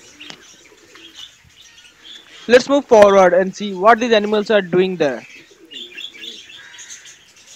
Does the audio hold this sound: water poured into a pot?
no